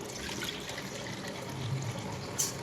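A steady, soft rush of rice-soaking water pouring continuously into a cooking pot, fairly quiet and close with no talking.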